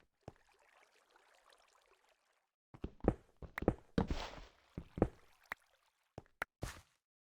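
Footsteps in a video game: after a quiet, faint stretch, a series of crisp, close knocking steps with uneven rhythm, some heavier thuds, then a few spaced final steps.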